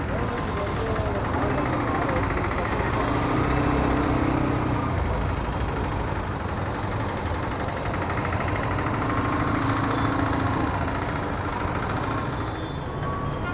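Vehicle engines idle and rumble in heavy, stalled traffic during a ride in Madurai. A steady, loud, broadband drone of surrounding motors holds for the whole stretch with no pauses.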